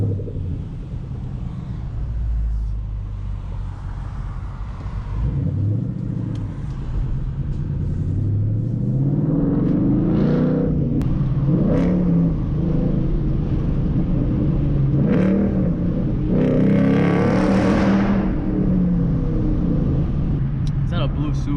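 A 2014 Ford Mustang GT rumbles continuously as it is driven, its low V8 drone steady and close from inside the cabin, with someone talking over it throughout.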